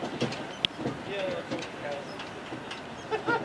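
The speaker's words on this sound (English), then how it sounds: "I'm on the tram, so the ride is bumpy." A bumpy tram ride at the Houston Space Center, with steady rumbling and clattering of the moving car, occasional knocks and a sharp click, and a voice talking over it.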